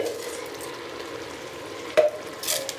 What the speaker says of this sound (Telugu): ఇప్పుడు బియ్యం వేస్తాను ఫ్రెండ్స్.